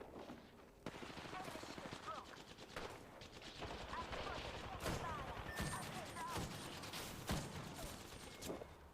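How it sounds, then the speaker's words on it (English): Gunfire from the Apex Legends video game: dense automatic bursts and sharp single shots crackle through the stretch, moderately near but fairly quiet overall, with a voice talking faintly underneath the firing. "The other team is shooting at me too."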